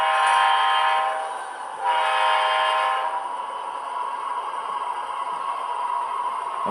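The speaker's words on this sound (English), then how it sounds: "it changes direction to sound the horns" A model diesel locomotive on an HO/OO shelf layout sounds its horn in two loud sustained blasts, followed by a steady lower engine rumble that continues to the end.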